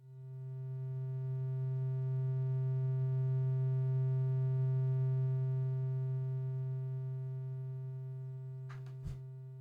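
A modular synthesizer's steady low tone with a slow attack slowly fades in and sustains, humming evenly with buzzy overtones before a brief click near the end.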